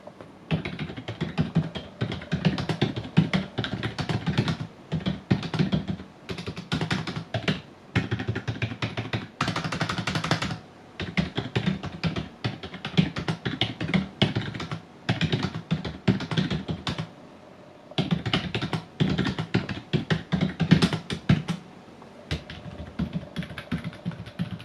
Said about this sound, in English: I'll show you a quick demonstration of what the noise is when typing.